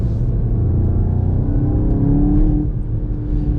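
A VW MK7 GTI, a front-wheel-drive hatchback, accelerates hard under boost, its engine droning close and loud with a steady rising pull.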